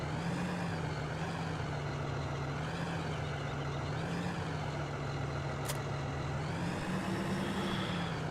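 A truck idles steadily while parking a trailer on grass, its engine droning with slow pitch swells, a short hiss of air partway through, with no voices.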